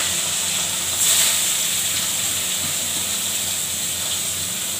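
Katla fish fries in hot oil with a loud, steady hiss, a brief surge of spattering about a second in as the piece is turned, then even sizzling continues.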